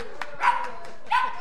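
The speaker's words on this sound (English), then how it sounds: "That's a yodeling dog as well." A yodeling dog lets out two rising, wavering howl-like yowls, close and clear, with a brief yip between them.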